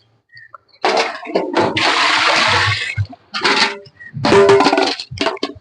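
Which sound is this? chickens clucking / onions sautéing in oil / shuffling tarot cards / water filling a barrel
water filling a barrel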